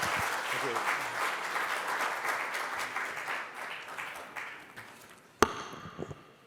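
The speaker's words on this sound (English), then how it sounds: "Please give a round of applause." Audience applause at an ICAI professional ethics session, a dense sustained clatter of many hands that fades after about five seconds, followed by a sharp isolated knock and scattered small sounds in a quieter room.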